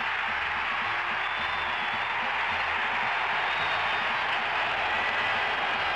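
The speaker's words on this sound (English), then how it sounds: "The crowd comes apart at the seams as Charlie Smith catches one from 32 yards" Stadium crowd roaring continuously after a Raiders touchdown catch, a dense, steady wall of cheering at full volume throughout with no break or voices standing out.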